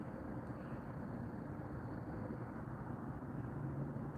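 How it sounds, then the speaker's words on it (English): Helicopter flying high overhead above clouds near a park, a faint, steady low rumble with no distinct blade beat, continuous throughout. "I think I hear a helicopter, I just don't see it."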